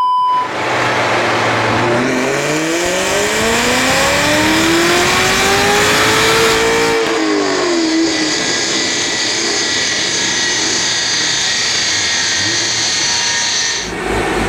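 A car engine revs hard under acceleration, its pitch climbing in a loud, rising howl before a sharp shift, then a sustained roaring drone close by.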